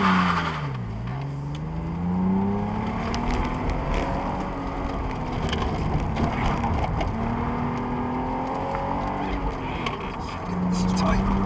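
A car engine revs up loudly and close, dipping and climbing again as it shifts through gears, with people talking over it.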